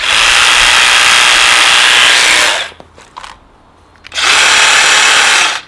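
A Stihl battery hedge trimmer runs on its slowest setting, a loud close whirring buzz that cuts off, sputters briefly in a few short bursts, then starts up again at full steady drone.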